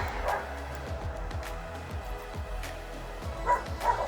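Dogs bark in short repeated bursts, somewhat distant and muffled, with a couple of sharper yips near the end over a low steady background rumble.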